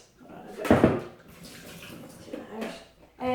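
Cold tap water runs into a kettle in a home kitchen for a citric acid descaling. A strong splashing burst settles into a steady moderate pour, close and alone.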